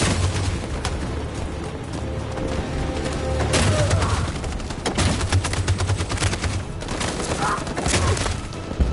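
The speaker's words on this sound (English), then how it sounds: "That machine gun is taking down everything that moves!" Machine gun fire in the game Detroit: Become Human, rapid bursts and heavy gunfire thundering continuously through a chaotic battle scene, loud and close, with scattered impacts and shouting in the background.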